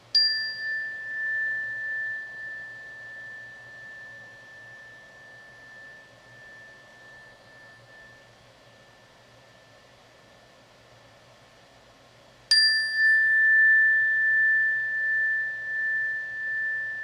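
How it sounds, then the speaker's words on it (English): A meditation bell rings out clearly at the start and fades slowly over a steady hum of background noise, then is struck again around the middle, its bright ring rising and sustaining; no voice is heard. "Feel the bell calling you in, calling you deeper in."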